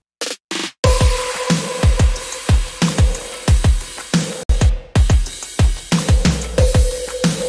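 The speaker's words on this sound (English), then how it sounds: "So all together, drums come together pretty fat and sound like this." A full drum kit plays a steady beat, with punchy kick and snare hits repeating about twice a second, loud and close, with no voices.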